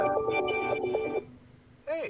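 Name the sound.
phone ringing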